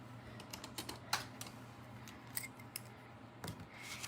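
Scissors snip paper flower petals for a handmade card, a string of quick, light, close clicks at irregular intervals with no talking.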